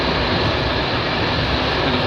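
Steady, loud rumble of a train rolling through the Turkish countryside, a continuous dense roar of wheels and carriage noise heard from inside with no talk.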